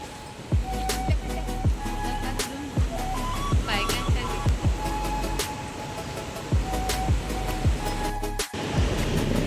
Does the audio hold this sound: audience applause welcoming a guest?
no